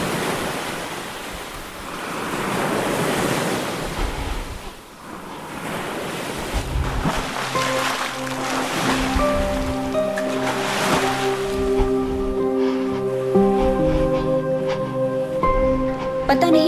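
Sea waves washing over a shore, a broad surging hiss that rises and falls in long swells, with wind buffeting the microphone and a tonal drone entering partway through.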